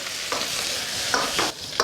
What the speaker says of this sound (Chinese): 用油爆炒一下，才能够更好的激发出香味来。